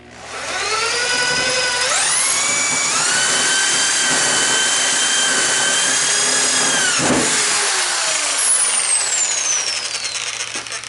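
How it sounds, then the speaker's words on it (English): Power drill boring into wood with a spade bit for a homemade bow press, a loud whining motor that ramps up in pitch, holds steady for several seconds, briefly dips as the bit bites, then keeps running. "I am using a spade bit."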